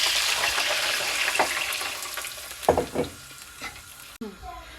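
Julienne-cut carrots sauté in a hot pan with a bright sizzle, broken by several stirring scrapes and clatters, before the frying sound cuts off sharply near the end.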